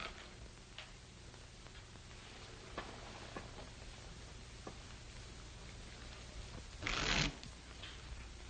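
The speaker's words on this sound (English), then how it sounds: "Shuffle and deal." Playing cards are shuffled and dealt at a card table in an old western film. Soft, scattered ticks and flicks sit under a faint hiss, with one short, louder riffle near the end.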